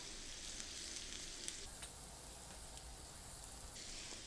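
Butter melts in a pan at home, giving a faint, steady crackling sizzle with a few brief pops and no voices.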